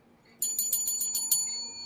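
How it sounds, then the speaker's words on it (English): A small bell rings in a quick series of about seven bright, close strikes that decay briefly, leaving faint ringing afterward. "So I'm gonna test out the bell here."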